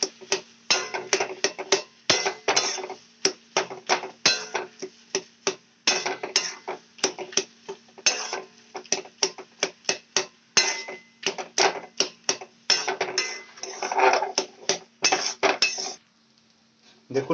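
Vegetable cutlet mixture being sautéed in a kadai: rapid, sharp metallic clinks and scrapes of a spatula against the pan in busy irregular bursts, close up over a faint steady hum.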